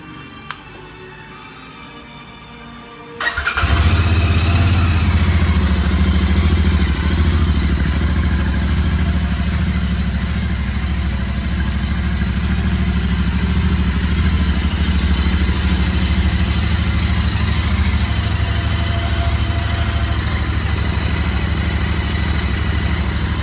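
A Royal Enfield Interceptor 650 that had petrol and water mixing and rust trouble after washing fires up after a few quiet seconds, then settles into a loud, steady idle with a throbbing low rumble and light mechanical clatter.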